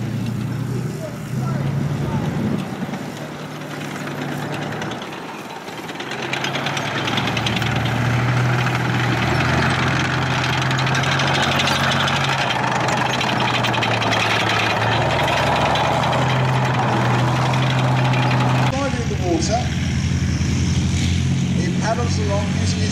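A Russian tracked military vehicle's engine runs loud and steady at an outdoor vehicle show, a continuous rumbling drone with a brief dip early on and a mechanical shift near the end.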